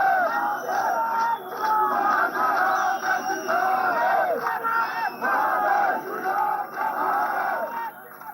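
A dense crowd of protesters of all ages, men and women, shouts and chants in unison over a mosque dispute, a loud continuous roar of voices with rhythmic surges and no pauses.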